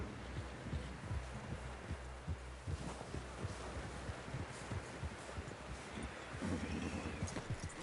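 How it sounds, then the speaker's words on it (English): Horse hooves in the Red Dead Redemption 2 video game, a steady rhythmic clip-clop of a moving horse beneath a dense, noisy backdrop of wind and rustling, with no speech. "Someone help John down off this horse."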